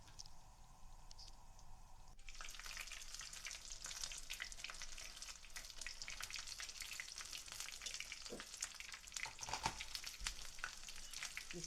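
Breadcrumb-coated chicken nuggets hit a frying pan over medium heat, and a soft, even crackling sizzle starts abruptly and then holds steadily, low in level with scattered pops.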